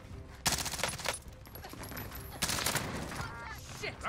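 Automatic gunfire in Call of Duty Warzone, two loud rattling bursts over a busy game background, with a voice speaking faintly.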